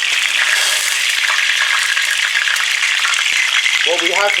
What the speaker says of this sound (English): It's a bit noisy because of the oil frying.